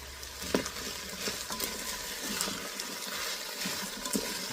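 Celery stalks and shredded carrot sautéing in a soup pot, a steady sizzle with intermittent stirring scrapes and small pops, close and unaccompanied by speech.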